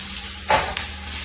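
Country potatoes sizzle and fry in a pan, with a brief, louder scrape-and-hiss burst as they are flipped midway, then the steady frying settles back under a faint low hum.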